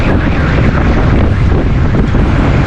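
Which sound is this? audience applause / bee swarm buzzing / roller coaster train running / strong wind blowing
strong wind blowing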